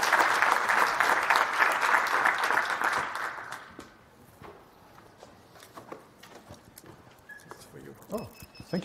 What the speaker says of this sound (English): let's have a round of applause for the speaker